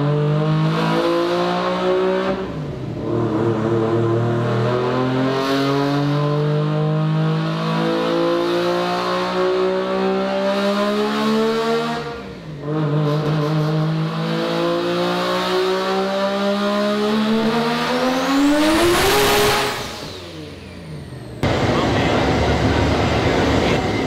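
A high-horsepower car engine on a dyno, being tuned toward 1000 horsepower, revs in repeated long pulls, its pitch climbing steeply then cutting off abruptly, with brief drops to idle between runs, loud and close.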